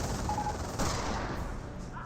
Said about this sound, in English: Snipers firing away.